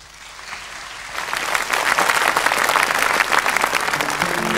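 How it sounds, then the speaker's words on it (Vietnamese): An audience at a Paris By Night comedy stage show breaks into applause. Dense clapping swells from a quieter start into loud, sustained, crowded applause. "lời chào đã dứt, tròn tràng pháo tay"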